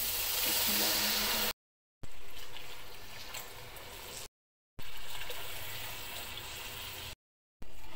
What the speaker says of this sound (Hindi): तीन कप पानी ऐड कर दिया